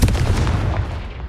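A Confringo blasting spell explodes in Hogwarts Legacy, a dense low rumbling blast that fades over a second or so.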